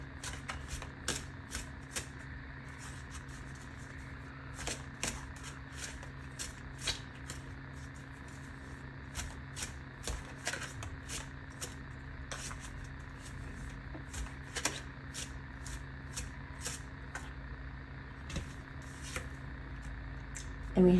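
Tarot cards being shuffled by hand, a steady run of quick riffling snaps and soft slaps repeating close up over a faint background hum, with no talking.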